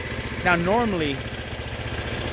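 Woodmax woodchipper engine idling with a low, steady rhythmic chug throughout, while someone speaks briefly over it near the start.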